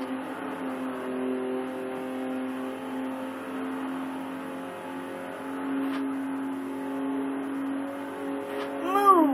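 Video game cars drive with a steady, buzzing engine whine that holds and shifts pitch, then rises in a sharp rev near the end.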